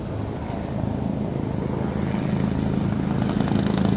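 A medevac helicopter passes overhead, its rotor thumping as a steady, fairly loud drone that builds slightly over a few seconds, with no talking.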